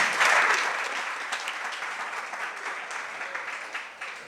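Applause from a crowd at a Jain religious gathering, a dense burst of clapping that starts strong and gradually thins and fades, with scattered individual claps toward the end.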